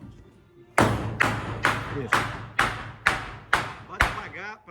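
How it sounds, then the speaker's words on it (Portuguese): Nails hammered into a fireplace cover indoors: eight sharp, evenly spaced hammer blows at a steady rhythm, each ringing briefly, close and loud, with a short spoken word among them. "Bate devagar para não entrar muito."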